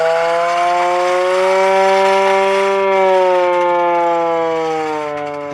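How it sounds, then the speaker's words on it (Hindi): A loud siren wails alone in one long, steady tone that rises slightly and then slowly sinks and fades toward the end. "सायरन चल गया"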